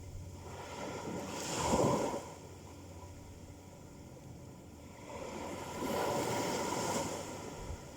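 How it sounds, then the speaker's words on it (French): Ocean waves break twice, each a soft rushing swell that rises and fades against a low, steady background of wind and surf. "Et juste écoutez le bruit des vagues."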